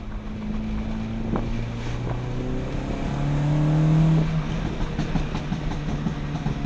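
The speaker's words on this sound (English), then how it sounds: "Feels great to have the car back on the road." A car cruises on the road, likely heard from inside, with a steady low engine drone and road rumble, a rising tonal whine as it accelerates, and some wind noise throughout.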